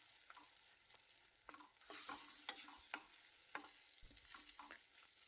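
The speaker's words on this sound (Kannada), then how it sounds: "ಇದಕ್ಕೆ ಈರುಳ್ಳಿ ಪೇಸ್ಟ್ನ ಎಣ್ಣೆಯಲ್ಲಿ ಫ್ರೈ ಮಾಡ್ಕೋಬೇಕು" Onion paste fries in oil as a spoon stirs it, producing soft sizzling with repeated scraping strokes, quiet and close, with no talking.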